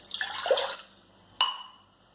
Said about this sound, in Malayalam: നമുക്ക് അതിലേക്ക് ഇത്തിരി വെള്ളം ഒഴിച്ചു കൊടുക്കാം